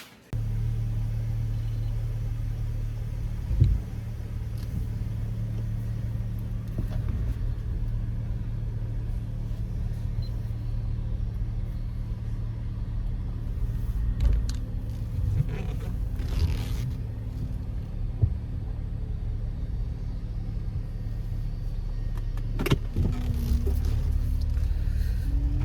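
Steady low road rumble inside a moving car, continuous and fairly loud, with occasional small clicks and bumps and no talking.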